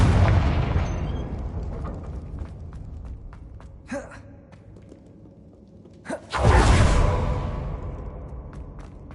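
Confringo fire spell blast in Hogwarts Legacy on PS5, with a loud broadband burst near the start that fades, a brief crackle midway, then a second heavy explosion that rumbles and slowly decays, no talking.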